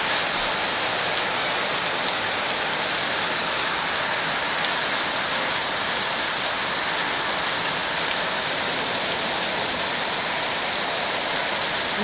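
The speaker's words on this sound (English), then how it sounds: "Still hailing." Hail pelting down during a storm in the Blue Mountains near Sydney, a dense, steady hiss of ice striking surfaces that holds unbroken at close range throughout, with no talk.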